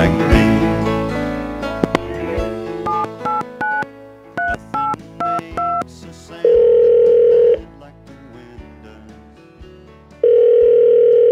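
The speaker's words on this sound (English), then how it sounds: "I'm dialing this number for the last time, Dick." Touch-tone telephone dialing alone: a series of short, evenly spaced keypad tones, followed by two long steady ringback tones with a pause between them, loud and close.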